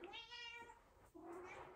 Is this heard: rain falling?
no